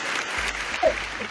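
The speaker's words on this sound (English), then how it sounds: "We give him a round of applause before we go." A short round of applause for a podcast guest, steady close clapping from a small group throughout, with a voice briefly sounding underneath.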